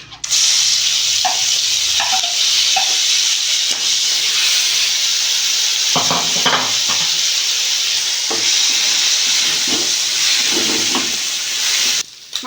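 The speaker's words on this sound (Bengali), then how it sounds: "তেলটা গরম হয়ে গেছে আমি চিংড়ি মাছ ভেজে নেব" Prawns frying in hot mustard oil in a wok, a loud steady sizzle and hiss running throughout, with occasional clatters and stirring scrapes up close, no talk.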